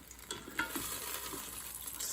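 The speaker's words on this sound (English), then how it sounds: "sizzling" Thick burger patties sizzle and spit in a Ninja Foodi: a steady hiss of frying fat with scattered sharp pops and crackles, close and fairly quiet, with no talk.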